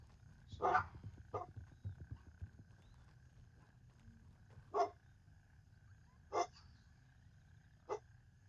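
Dogs bark in a residential neighborhood, several separate sharp barks spaced a second or more apart, moderately distant, against a low rumbling background with no talking.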